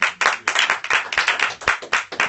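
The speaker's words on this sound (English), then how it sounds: "Can we clap a little bit?" A church congregation claps along during a gospel song in a sermon service, a steady rhythmic series of loud, close hand claps with no talk over them.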